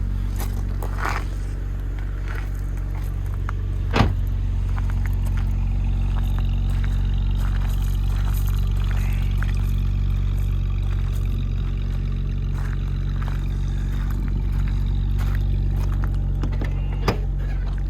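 A 2010 silver BMW Z4 coupé drives along with a steady low engine drone and road rumble heard from inside, with faint clicks and a couple of sharp knocks.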